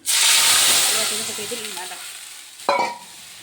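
Greens hitting hot oil in a pan, a loud burst of spluttering sizzle that slowly fades, then a sharp clatter of a utensil near the end, close by.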